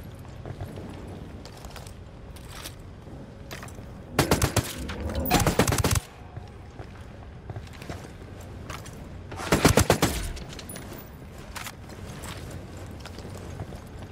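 Gunfire in the video game Ghost Recon Wildlands: two loud, dense bursts of rapid shots, each lasting a second or two, stand out over a steady background of game ambience.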